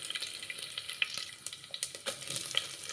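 Chana dal, urad dal and curry leaves fry in hot oil for upma, giving a dense, crackling sizzle with rapid pops and spits throughout, close and moderately loud.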